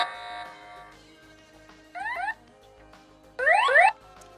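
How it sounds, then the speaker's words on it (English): Two short bursts of a rapidly warbling electronic alarm tone from an X-Sense home alarm kit, each lasting under a second, separated by quiet with a faint earlier tone at the start. "And you can have different alarm tones."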